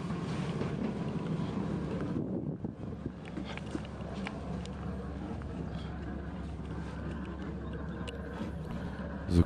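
A Broom 37 river and coastal cruiser's engine runs steadily with a low rumbling exhaust, joined by wind buffeting and light splashing water close by.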